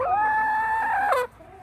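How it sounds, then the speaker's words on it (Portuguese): A single rooster crow, close and loud, holding a long tonal note before breaking off abruptly. "São dois galos, tá?"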